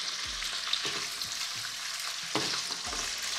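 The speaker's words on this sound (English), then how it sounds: "Now we need to saute the sausages just to give it a little glaze, give it a little color." Sliced chicken sausages stir-frying in a pan, a bright steady sizzle with several soft thuds and scrapes as the pieces are tossed, close and without talk.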